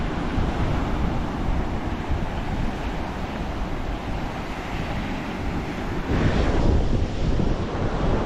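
Strong wind buffets the microphone on a beach during surfcasting, a loud continuous roar with surf behind it that swells near the end.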